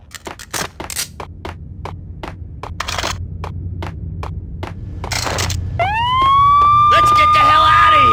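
Police sirens wail in the Max Payne game, rising in and holding steady after a run of sharp thuds and clatters, loud and close.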